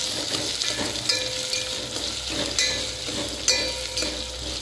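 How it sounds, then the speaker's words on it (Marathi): Onions fry in a steel pot with a constant sizzle, while a utensil stirs and scrapes against the metal with a few sharp clinks, loud and close with no talk. "कांदा चांगला परतून घ्या"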